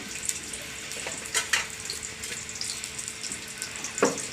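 Onions frying in oil in a pan over an outdoor wood-fired stove, a steady soft sizzle with a few brief louder crackles and spatters, heard close with no talking.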